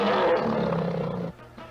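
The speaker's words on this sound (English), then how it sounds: "it's a tiger." A tiger roars in a 1960s gasoline radio advertisement, one loud, close, sustained growling roar that fades out abruptly.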